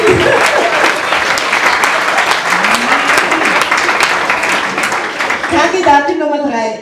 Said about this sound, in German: Und jetzt hat einen Applaus verdient.